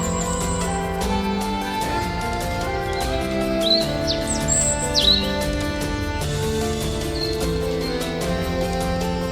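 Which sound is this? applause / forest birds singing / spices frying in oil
forest birds singing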